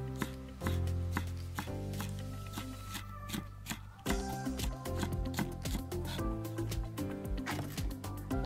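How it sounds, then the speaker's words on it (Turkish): A knife chops peppers on a cutting board outdoors, rapid crisp taps in uneven bursts that speed up in the second half, close and clear with no talking. "Önce biberlerimi doğramakla işe başlıyorum."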